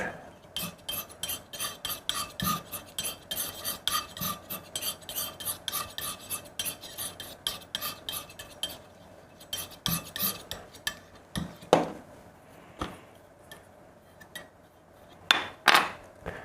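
Urushi lacquer being diluted and stirred in a small pan for sealing gold leaf, with rapid scraping and clinking strokes in a steady rhythm, close and moderately quiet, then a few sharper taps.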